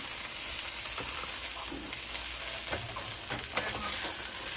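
Hash browns fry in a pan with a steady close sizzle throughout, broken by a few scraping turns as the potatoes are flipped.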